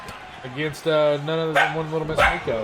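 Bailey the pet dog lets out a few bark-like yips and whines behind a speaking man, with the dog sounds fairly close and mixed in with the talk.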